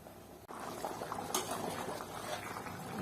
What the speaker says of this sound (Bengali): ফুটতে থাকবে